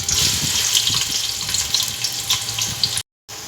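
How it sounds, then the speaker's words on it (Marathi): Water splashes steadily into a cooking pot of onions in oil and ghee for a biryani, a continuous close rushing sound that ends abruptly. "पाणी टाकून द्यायचं आहे."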